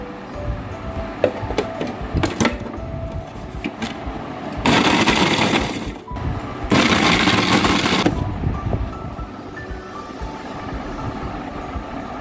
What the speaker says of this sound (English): now we'll grind them into a fine powder